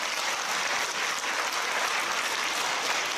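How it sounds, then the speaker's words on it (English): Sustained, thick applause fills the hall at a community college wind symphony concert, an even wash of many hands clapping at once for several seconds, with no speech. "So I just want to give him a big round of applause."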